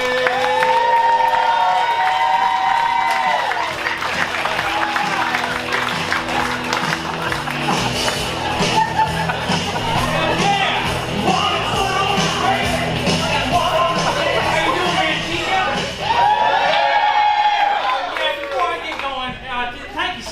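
A comedy club crowd in Manteca applauds and cheers to welcome a comic, a dense, loud roar of clapping, whoops and shouts sustained for about twenty seconds, with a voice speaking over it at times.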